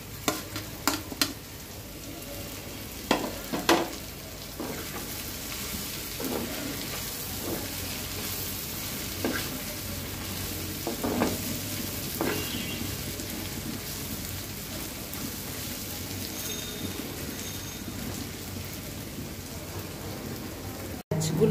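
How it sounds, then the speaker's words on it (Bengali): Pre-fried prawns sizzling in a pan while restaurant-style vegetable fried rice is being made: a steady hiss of frying with scattered clinks and scrapes of stirring, fairly close and even throughout. "মাছগুলো আমার ভাজা হয়ে গিয়েছে"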